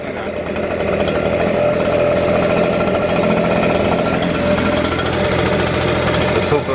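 A small warm gas engine on a leaf collecting machine runs loudly and continuously after a pull-cord start, a steady close rattling drone throughout.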